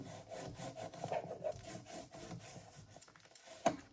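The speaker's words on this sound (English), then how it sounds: "And we can burnish it with our bone folder." A bone folder is rubbed firmly over glued paper to burnish the spine of a handmade booklet. Close, quiet scraping strokes repeat in a steady back-and-forth rhythm, ending with a single sharper tap, and no one speaks.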